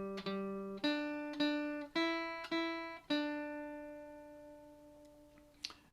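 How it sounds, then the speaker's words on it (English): A slightly out-of-tune guitar plays Twinkle Twinkle Little Star in perfect fifths, with five or six clear plucked notes that each ring and fade, close and clean, with no talking. "So that's the sound of the perfect fifth."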